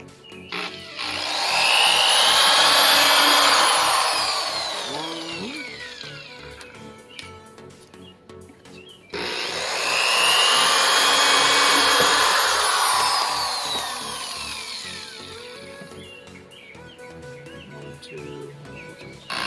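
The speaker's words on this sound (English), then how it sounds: "I'm going to drill some pilot holes for the screws" A power drill whines at high speed drilling pilot holes in a fiberglass mold shell, through two long bursts, each spinning up and slowly winding down, close by with no talking.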